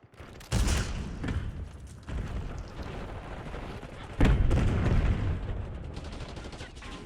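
Frag grenade going off in Call of Duty: Black Ops 6, a loud blast landing amid scattered gunfire and booms in a busy multiplayer match, with no talk over it.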